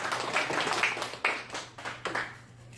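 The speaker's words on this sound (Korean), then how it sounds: "박수 치면서 자리합니다" A handful of people clap in loose bursts as they take their seats at a management seminar, irregular rounds that start and stop rather than forming a full ovation.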